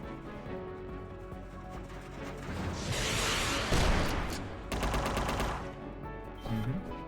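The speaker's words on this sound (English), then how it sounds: "Он по мне стреляет" Enemy gunfire in the video game Unmetal, bursts of rapid shots and impacts rising in the middle and late part of the clip over steady game ambience, fairly loud, with no talk.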